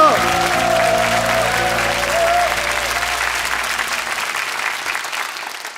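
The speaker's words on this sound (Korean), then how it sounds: "우리를 기적의 세대로 일으키신 주님께 감사의 박수 올려드립니다." A congregation at a church dawn prayer service bursts into loud, steady applause over lingering keyboard chords, the clapping holding strong for several seconds before tapering off.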